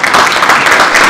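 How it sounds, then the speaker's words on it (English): An audience at a public meeting gives students loud, close applause, a dense burst of many hands clapping together for about a second with no talk over it. "I'd like to applaud"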